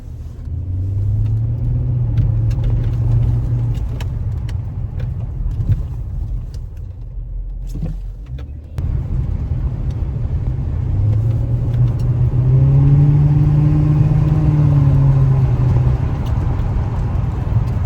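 A race car with aired-up tires and broken sensors driving a quick lap, a close, loud, rumbling engine droning steadily with a few rises in revs and a brief dip midway.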